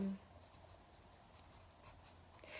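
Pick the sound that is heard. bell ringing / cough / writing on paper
writing on paper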